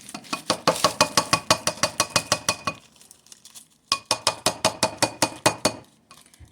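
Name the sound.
crushed ice and spoon clinking in cold glasses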